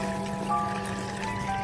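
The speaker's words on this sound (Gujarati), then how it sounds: "હવે પાણી નાખી દઈએ." Water being poured into a container to mix with pesticide for spraying on groundnut plants, a steady close splashing stream running for the whole stretch under a faint tonal hum.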